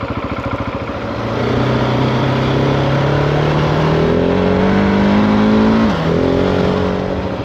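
A GasGas ES 700 dirt bike engine revs loudly up close, pitch climbing steadily, then dipping sharply before rising again.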